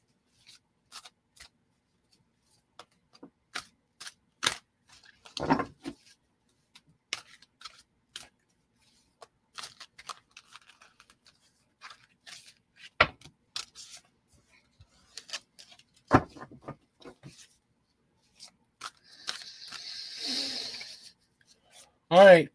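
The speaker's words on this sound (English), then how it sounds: "Let me do a cleansing shuffle for you." Tarot cards being shuffled by hand, scattered soft riffles, taps and rubbing clicks spread irregularly over quiet pauses, close and faint, with a brief sharper rustle near the end.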